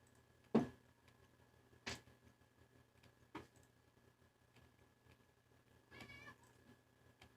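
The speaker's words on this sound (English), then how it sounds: "My cats are making noises." Pet cats meow a few times in a quiet room, with short, fairly close cries spaced across the stretch and a longer, wavering call near the end over low background hum.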